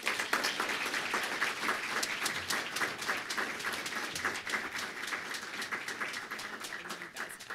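A seated audience at a San Francisco community center's literary event gives steady, dense applause for a poet's arrival, a continuous wash of many hands clapping that holds evenly for several seconds.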